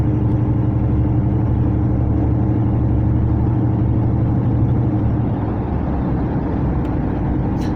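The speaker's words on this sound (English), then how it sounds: "We're starting the climb. Drop a gear, she's struggling." A heavy truck's engine labours steadily at low revs as it pulls up a climb toward Sheppey Bridge in the UK, a constant loud drone with deep rumble and wind noise and no pauses.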